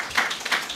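A brief burst of clapping from an audience at a formal gathering, a few quick hand claps close by.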